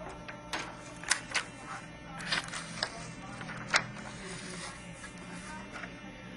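Printer feeding a sheet of wood ply taped to paper through its rollers, a low steady mechanical whir with scattered clicks and clunks, faint and close.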